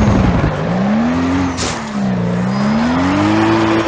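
Car drifting in Need for Speed ProStreet on PS3, a steady loud engine drone with a rising and falling pitch as it slides, and a brief tire squeal near the middle, no voices.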